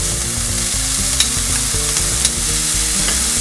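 Ginger garlic paste sautés in hot oil for vegetable biryani, giving a steady, loud, close sizzle with scraping stirs and a couple of sharp spatter pops.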